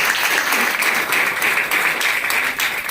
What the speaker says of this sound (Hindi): भूमि सर का भी यहाँ पे जोर से तालियां बजा के हम लोग स्वागत करेंगे